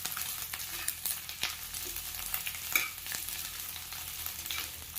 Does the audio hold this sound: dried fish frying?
yes